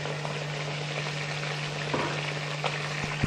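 Pieces of fish frying in a pan with a steady, even crackle and hiss, moderately quiet and close, over a low constant hum, with a couple of light clicks near the end and no talking.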